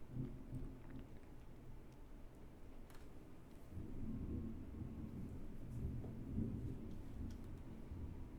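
Thunderstorm outside a building in a capital city, a low continuous rumble of thunder with rain, fairly faint and distant, swelling slightly midway, no voices.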